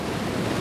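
A steady, broad roar of rushing water from Torc Waterfall in Killarney National Park fills the moment, constant and full at close range.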